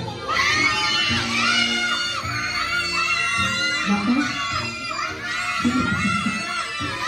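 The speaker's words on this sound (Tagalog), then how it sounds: "Kasi sigawan na sila" Children at a birthday party shout loudly together in a sustained, excited crowd roar, with adult voices and talk mixed through it.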